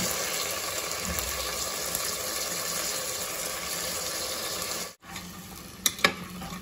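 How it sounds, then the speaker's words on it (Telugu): Potato pieces and hyacinth beans stirred in hot oil with fennel seeds and curry leaves, a steady close sizzle with faint scraping, briefly cut off near the end before resuming. "ఇప్పుడు కట్ చేసుకున్న బంగాళదుంప ముక్కలను అలాగే అనప గింజలను వేసి బాగా కలుపుకోవాలి."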